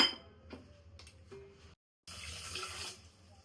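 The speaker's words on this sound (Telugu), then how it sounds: "ఒక కప్పు వాటర్ వేసుకోవాలి" A cup of water is poured into sugar for a syrup, a brief near splash and trickle after a few faint clinks, alone in a quiet kitchen.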